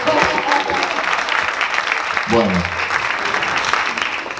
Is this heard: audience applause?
yes